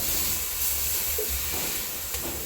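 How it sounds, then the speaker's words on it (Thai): Wai Wai noodles are stir-fried in a pan until dry, giving a steady, close sizzling hiss with soft scraping and tossing sounds. "ผัดให้เส้นแห้งครับ"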